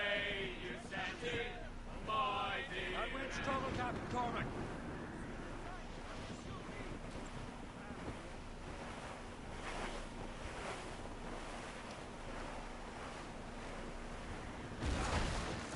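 Wind and surf around a sailing ship in a video game: a steady, full wash of waves and blowing air runs throughout, with faint tonal sounds and voices in the first few seconds and a brief gust swelling near the end.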